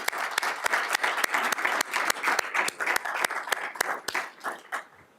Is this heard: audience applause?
yes